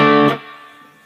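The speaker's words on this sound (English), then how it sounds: "I'm going to try the crunch feature. Click on the crunch." Electric guitar through an MXR Custom Badass '78 Distortion pedal in crunch mode: one loud, gritty chord rings out, then quickly drops away and fades within about a second, alone.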